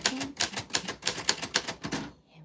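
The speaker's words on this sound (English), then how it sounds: "This is the same typewriter." A typewriter named Mildred clacks in a quick, even run of about a dozen crisp keystrokes, close and alone, ending in a brief pause.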